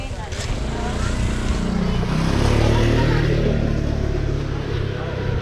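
A motorcycle rumbles past close by on a street, its engine note rising and falling steadily over about five seconds, with people talking nearby.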